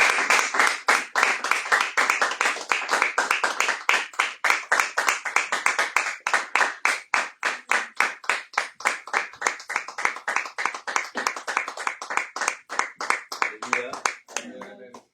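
A church congregation claps together in a steady, fast rhythm of many hands, loud and close, keeping up for about fifteen seconds before it thins out at the end.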